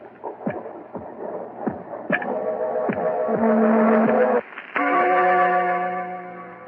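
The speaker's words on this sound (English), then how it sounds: "that noise you hear is his heart" Rhythmic, thudding heartbeat pulses beat steadily beneath eerie, droning tones that swell and hold, resonant and fairly loud, in an old-time radio drama of The Tell-Tale Heart.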